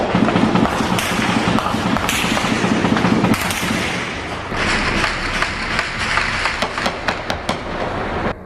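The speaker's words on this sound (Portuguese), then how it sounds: "Os moradores foram pegos de surpresa pelos tiros quando voltavam para casa." Rapid bursts of gunfire, sharp repeated cracks and thuds in quick succession, loud and close, continuing throughout.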